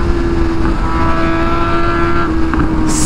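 A Suzuki GSX-S motorcycle runs at high speed with a loud, sustained engine drone and heavy wind rush, its pitch holding fairly steady throughout.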